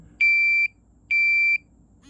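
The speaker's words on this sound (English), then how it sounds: "You got your buzzer." Two steady, high-pitched electronic beeps from a TOPTIS RT 389 refrigerant leak detector buzzer, each about half a second long, separated by a short pause, loud and clear over a quiet background.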